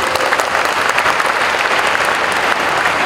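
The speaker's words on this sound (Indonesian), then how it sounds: "Sekali lagi beri tepuk tangan yang meriah untuk Ibu Susi Pujiastuti." A hall audience at a high school event claps loudly for Indonesian fisheries minister Susi Pujiastuti, producing dense, sustained applause that stays even and close for its whole length, with no voices standing out.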